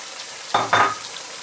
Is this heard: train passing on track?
no